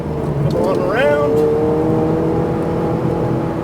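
Sports car engine on a race track, a Lotus or Ferrari, droning steadily and then giving a quick rising rev as it shifts, loud and close, with someone talking over it.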